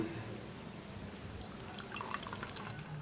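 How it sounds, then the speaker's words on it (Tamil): Water trickles and drips from fresh paneer curds squeezed by hand in a kitchen, a faint, continuous pouring patter close by. "ஆனாலும் தண்ணி நல்லா கீழே இறங்குற வரைக்கும் நல்லா அழுத்தி பிழிஞ்சிருங்க"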